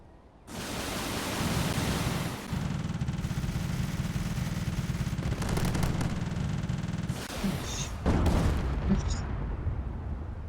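Ship cannons firing in a video game, a loud sustained barrage of booming blasts that rumbles on for several seconds, with sharper bursts near the end.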